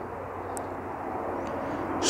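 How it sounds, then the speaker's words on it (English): A distant helicopter heard outdoors on a countryside public footpath walk, a steady low rotor and engine rumble that swells slightly louder by the end. "Just spotted that helicopter or chopper going along."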